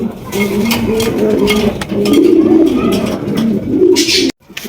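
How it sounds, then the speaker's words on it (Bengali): Large pigeons, including Barhama birds at a seller's loft, coo in repeated soft rolling calls close by, with several birds overlapping and faint chirps and rustling between the calls. "একদম বিশাল সাইজ ভাই অস্থির লেভেলের কবুতর"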